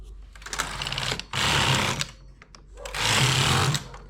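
Domestic knitting machine carriage run across two rows, a steady mechanical whirring rattle in two sustained passes separated by a brief pause, close and fairly loud with no talk.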